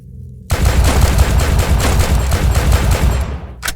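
Rapid pistol gunshots in the retro shooter Dread Templar, a loud, punchy string of closely spaced shots fired in quick succession before stopping abruptly.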